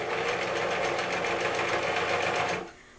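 A sewing machine stitching around the edge of a quilt, a steady rapid mechanical whirr at close range that runs for about two and a half seconds and then stops, with no talking.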